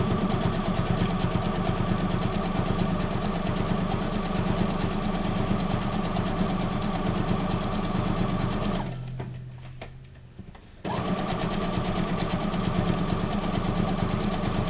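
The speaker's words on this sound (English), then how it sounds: "Let's sew this on first. And then I'll sew around the guest check this time." A sewing machine stitches paper guest checks onto journal cards with a fast, even whirring stitch, pauses briefly for a couple of seconds, then starts stitching again.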